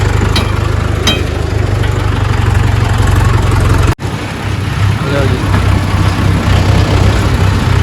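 A tractor engine idles steadily in the open on a Delhi-area morning, a constant low rumble with a brief dropout midway and faint background activity around it.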